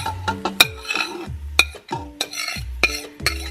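Marinated onions cook in sesame oil in a pan, heard as a run of close, sharp utensil scrapes and clinks against the pan at an irregular stirring rhythm over a soft sizzle.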